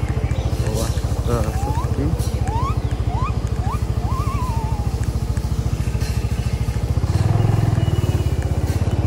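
A motorcycle engine drones steadily and close by throughout, with a person talking over it and a brief louder surge near the end.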